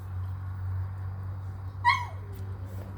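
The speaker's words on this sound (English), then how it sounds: "See, you even make my dog upset." A single short, high whine from a dog rises and falls briefly over a steady low hum in the background.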